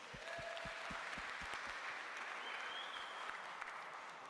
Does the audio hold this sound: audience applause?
yes